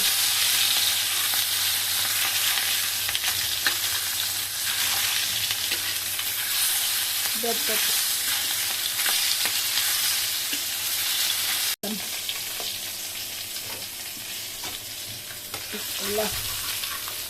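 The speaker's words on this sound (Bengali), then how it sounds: "আমার মাছ এক পিঠ ভাজা হয়ে গেছে," Pieces of rohu fish sizzle steadily in hot oil, a close and constant crackling hiss with a few utensil scrapes and taps scattered throughout.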